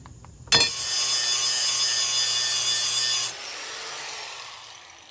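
A blade being sharpened, a long, even, bright scraping stroke that starts sharply and holds steady for a few seconds before fading off, close and alone, with no voices.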